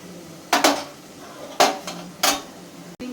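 A metal lid set onto a cooking pot on the stove, giving three or four clanking knocks of metal on metal, close and distinct, followed by a sharp click near the end.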